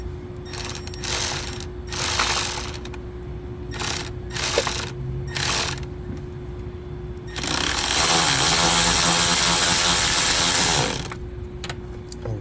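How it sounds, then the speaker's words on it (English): Loud, rapid ratchet clicking from an 8mm deep socket on the oil filter housing of a BMW N20 2.0L turbo engine, in several bursts with short pauses and then one long sustained run. "So again, 8mm deep socket, and even the short socket will still work."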